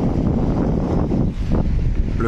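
Steady, blustery wind buffeting the microphone with a low rumbling roar throughout, no voices heard.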